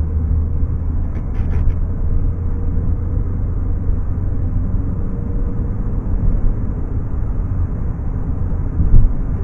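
Steady low engine rumble from inside a moving Opel Astra making strange noises, with a few brief higher rattles and knocks early on and a bump near the end.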